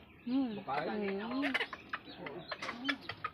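Chickens cluck and squawk nearby in short bursts, with a person talking over them.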